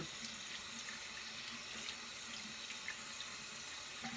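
Tap water runs steadily into a sink at home, a soft, even hiss heard alone and fairly faint, with no talking.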